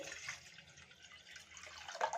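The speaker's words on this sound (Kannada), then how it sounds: "1 ಕಪ್ ರವೆಗೆ ನಾನಿಲ್ಲಿ 3 ಕಪ್ ಆಗುವಷ್ಟು ನೀರನ್ನ ಸೇರಿಸ್ಕೊತಾ ಇದ್ದೀನಿ" Water pours into a pot on the stove for cooking wheat semolina, a soft, steady trickling and splashing that swells slightly near the end, with no talk.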